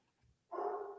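A dog barks from behind a closed door, a single muffled bark heard faintly in a quiet room.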